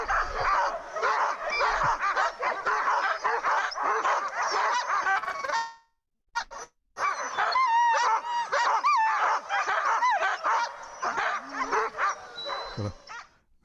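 A chorus of sled dogs barks, yelps and howls in a busy Yukon dog yard, loud and continuous from many animals at once, with a brief silent cut midway before the racket resumes.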